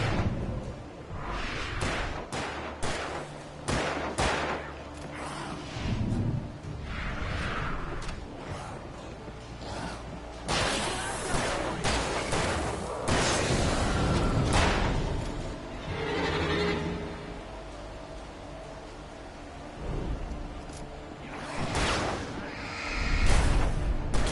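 Gunfire and booming blasts from the video game Alan Wake Remastered, loud sharp bursts recurring irregularly over a dense, rumbling game soundscape, with no one talking over it.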